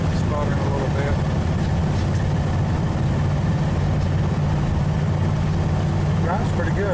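Engine of a 1959 Ford Galaxie 500 needing a carburetor rebuild, idling with a steady low rumble and slight uneven sputter, fairly close and continuous throughout.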